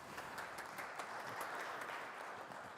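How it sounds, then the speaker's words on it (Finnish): Audience applauding at a security conference in Kouvola, a faint, steady patter of clapping from across the room lasting a few seconds. "Otetaan pienet aplodit Laurille."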